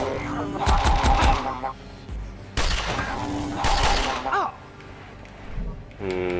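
A Ranger's gun fires in the roguelike game Sword of the Stars: The Pit, producing two loud clusters of rapid, crackling shots separated by brief pauses, followed by softer effects.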